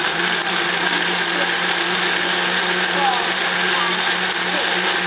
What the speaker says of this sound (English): you have to hold it to make sure that it doesn't blow up while you're blending